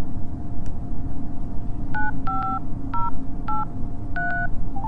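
Keypad tones from a phone being dialed, a sequence of about seven short beeps at an uneven pace over a steady low background hum, with no voices.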